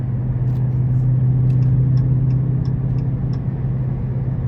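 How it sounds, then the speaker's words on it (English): A deep, loud exhaust rumbles steadily from a 2022 Dodge Charger SRT Scat Pack Widebody, a throaty low drone holding constant with faint ticking above it. "really, really great exhaust sound."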